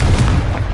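The Confringo explosive spell in Hogwarts Legacy hits with a loud, close, booming blast and a heavy low rumble that carries through the whole brief moment.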